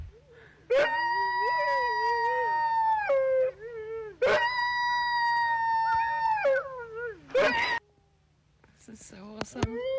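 Dingoes howl in the Australian bush, long wavering tonal howls rising and sliding, several overlapping calls close by, separated by brief pauses.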